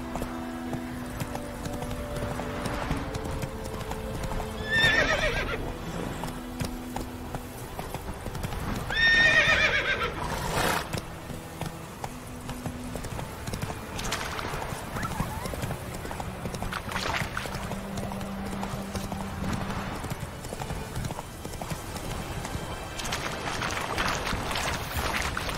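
A horse gallops and neighs in The Witcher 3 video game on PC. Rhythmic hoofbeats run throughout, loud neighs rise around five and nine seconds in, and faint wind and ambient game sounds sit underneath.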